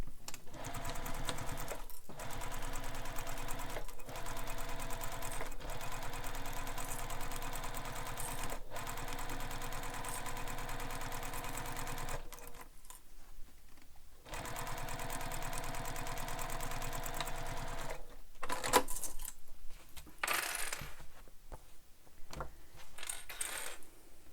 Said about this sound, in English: we're going to stitch this in place using the seam allowance given in the pattern